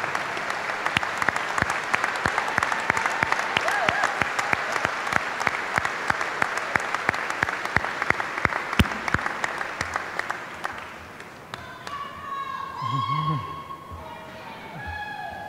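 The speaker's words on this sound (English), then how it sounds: "please stand up and give them a round of applause." Audience clapping at a high school graduation ceremony honoring alumni, loud sustained applause for about eleven seconds that then fades out as murmuring voices take over.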